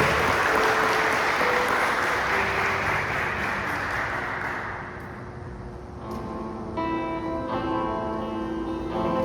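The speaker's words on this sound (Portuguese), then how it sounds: "Vamos aplaudir Jesus mais uma vez?" A church congregation applauds during a worship service, the dense clapping loud at first and then thinning out as sustained music tones and voices take over in the second half.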